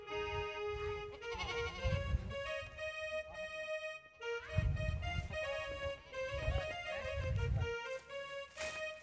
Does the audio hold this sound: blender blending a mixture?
no